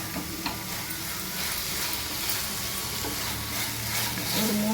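Cashews fry in ghee for apple halwa with a steady, close sizzle and crackle. A light stirring clatter runs through it and the sizzle grows slightly toward the end.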